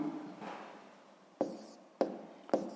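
Pen or pencil writing answers on paper for a fifth-grade maths exercise: a soft scratching stroke, then three sharp taps or quick marks spaced about half a second apart, faint and close, with no talk.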